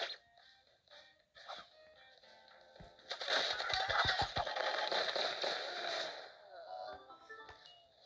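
Bombs explode in a video game in a dense, crackling cluster of thuds and bursts, with a few soft pops before and fading rattles after, all fairly quiet.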